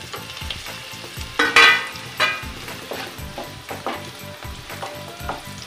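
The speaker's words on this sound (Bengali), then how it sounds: "এবার আমি কাজুটা দিয়ে এটাও একটু হালকা ভেজে নেড়ে নেব" Onion, cashews and tomato fry in a pan for South Indian style upma, a constant close sizzle broken by repeated rhythmic scraping strokes of a stirring spoon, with a couple of louder clatters.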